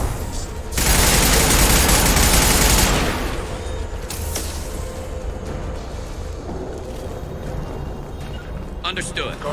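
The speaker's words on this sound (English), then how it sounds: "Firing concussive shots!" Heavy concussive weapon fire in Mass Effect 2, a loud sustained blast of booming shots for a couple of seconds that settles into a rumbling combat backdrop, with voices calling out over the action.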